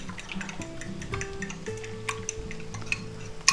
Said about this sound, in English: we're going to take our egg mixture here and we're going to mix it up a little bit here